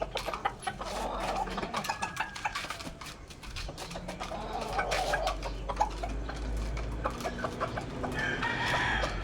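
Backyard chickens and roosters cluck and chatter around a feeding spot outdoors, a busy overlapping stream of calls at moderate distance with occasional louder squawks over low background rumble.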